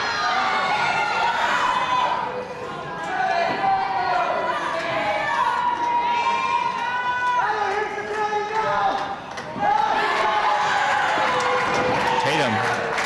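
A pro wrestling crowd cheers and shouts during a sleeper hold, a loud, continuous roar of many voices with a short dip before it surges again, while a commentator talks over it.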